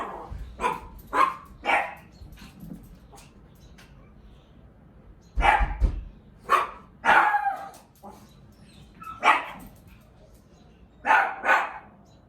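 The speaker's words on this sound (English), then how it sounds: "We refer to a dog as being barrier reactive when they bark, growl, or rush forward in response to a stimulus when they are behind a barrier." Dog barking from behind a barrier, about a dozen sharp barks in short bursts and pairs separated by quiet gaps, close and loud, with no talk over it.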